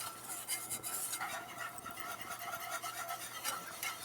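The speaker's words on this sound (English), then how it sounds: "Whisk it up and keep it blonde." Melted butter and flour whisked together into a roux in a pan, a quiet continuous rubbing and scraping of the whisk with soft rhythmic strokes, no talk.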